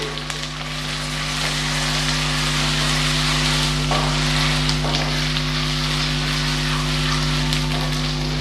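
Ginger garlic paste fries in a pan over a medium flame, giving a steady close sizzle and crackle with occasional stirring scrapes over a constant low hum from the stove or kitchen.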